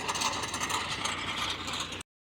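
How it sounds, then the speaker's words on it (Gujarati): A tractor at work levelling village ground produces continuous mechanical clanking and rattling with a steady engine rumble beneath, fairly close. The sound stops abruptly after about two seconds. "અહીંયા જો ટ્રેક્ટર હાલે છે આપણે જો લેવલ કરે છે"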